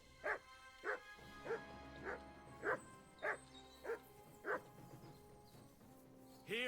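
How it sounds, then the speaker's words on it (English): A dog in the medieval role-playing game Kingdom Come: Deliverance II barks about nine times in a steady, evenly spaced series at moderate volume, with a low game ambience underneath. "Here, Mutt!"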